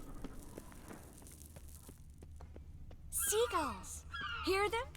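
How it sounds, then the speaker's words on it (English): Seagulls cry in The Witcher 3 game scene, two bursts of shrill, wavering calls near the end over a low ambient hum with faint clicks. "Seagulls! Hear them?"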